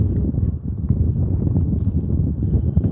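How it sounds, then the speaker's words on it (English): Wind blowing fairly hard from the north-northwest across a lake, rumbling steadily and roughly against the microphone as a loud, continuous low buffet. "The wind's blowing pretty good, north-northwest."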